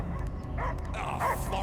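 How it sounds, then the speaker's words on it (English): A dog barks and yips a few times within the game Guardians of the Galaxy, short sharp bursts mixed with voices talking over the game's background sound. "I hear only barking."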